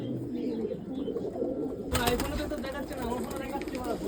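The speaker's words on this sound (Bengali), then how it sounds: "এই যে কাকু এখন পায়রাগুলো ঢুকাচ্ছে" Pigeons cooing in a loft during rain and sun, low soft coos running throughout, with a burst of rain or rustling noise joining about halfway; someone talks over the birds.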